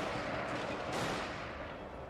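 Massed musket volleys from levy infantry in a Shogun 2 Total War battle, a dense continuous crackle of gunfire with a louder surge near the middle, steady and fairly loud throughout.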